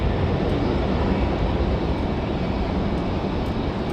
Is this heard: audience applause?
no